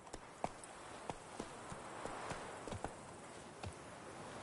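Faint horse hooves clip-clop in an irregular walking rhythm over a soft, steady background hiss, in the video game The Witcher 3: Blood and Wine.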